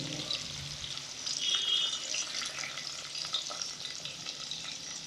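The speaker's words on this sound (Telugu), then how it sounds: "అదే నూనెలో కరివేపాకు, పచ్చిమిర్చి, ఉల్లిగడ్డ వేసుకొని" Curry leaves, green chilies and onion hit hot oil with a bright crackling sizzle that swells early and then settles into a steady, close frying hiss.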